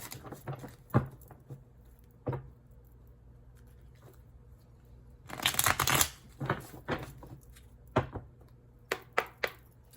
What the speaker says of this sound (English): we're going to shuffle and we're going to do the earth signs next